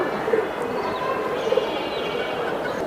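Pigeons cooing among a crowd of birds at a pigeon market, with a few soft, short coos over a steady murmur of background bustle.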